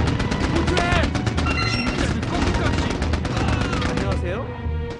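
Gunfire and explosions rage in the Mercenaries video game on PlayStation 2: rapid bursts of shots and booming blasts layered densely with game music and effects, loud and continuous.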